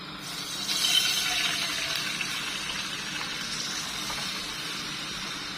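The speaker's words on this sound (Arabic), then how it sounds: "هنزل عليها بالميه" Water gushes steadily into a cooking pot on the stove, a close, continuous splashing pour that swells at first and then settles into an even fill, with no voices.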